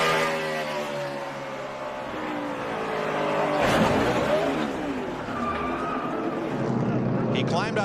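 NASCAR race cars at Martinsville during the 2011 Samsung Mobile 500 roar steadily, engines droning and rising as cars pass, with an announcer talking over the track noise throughout.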